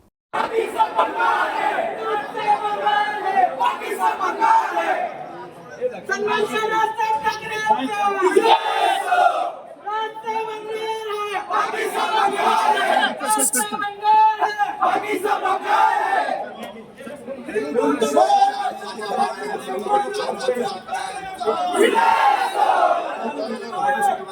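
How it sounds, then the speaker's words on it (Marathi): A large crowd of party workers gathered outside the Solapur government rest house on Raj Thackeray's arrival keeps up a continuous roar of chanting and shouting. Several voices rise together in loud rhythmic slogans, with brief dips between waves. "सोलापूर शासकीय विश्रामगृहाबाहेर कार्यकर्त्यांनी गर्दी देखील केली"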